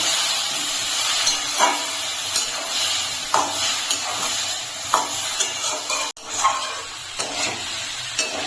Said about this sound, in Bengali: এখন মশলাটাকে আমি ভালো করে পেঁপের সঙ্গে একটু কষিয়ে নেব।